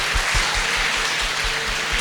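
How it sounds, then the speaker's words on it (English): A short burst of audience applause fills a room with continuous dense clapping from a crowd, steady and fairly loud throughout. "Give them both a round of applause."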